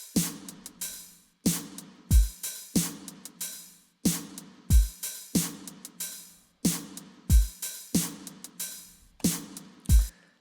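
Default Logic drum kit playing a hip-hop beat: punchy kicks, snares and hats in a steady looped pattern, close and alone.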